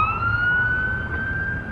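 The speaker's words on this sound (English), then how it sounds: "Got some siren action going." A siren wails in a steady, fairly loud electronic tone that slides slowly upward over a low background rumble, with no talking.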